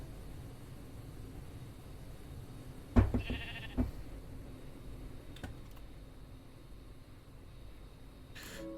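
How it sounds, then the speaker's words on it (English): Sheep in the video game Monifactory give a short bleat, heard once over quiet background with keyboard typing clicks, faint and brief. "Bless our sheep."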